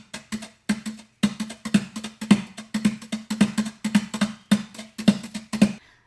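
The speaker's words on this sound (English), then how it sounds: "These are wire brushes." Wire brushes strike a surface in a steady, even rhythm, giving about a dozen crisp swishy taps at close range with no talking.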